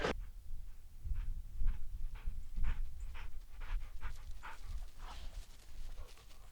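A dog pants quickly and rhythmically close by among lupin near an elk drinking spot, short breathy huffs repeating steadily for several seconds.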